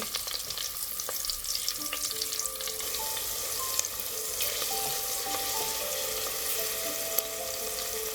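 Long green chillies frying and being stirred in a pan give a steady, dense sizzle throughout, with a few faint scrapes and clinks close by and no voices.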